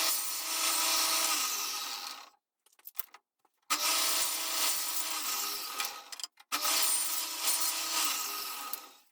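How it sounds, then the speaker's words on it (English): A table saw rips through wood using a crosscut sled in a home workshop, making three loud, sustained whining cuts separated by short quiet gaps. No one talks. "So I'll grab my table saw sled and we'll go ahead and do that."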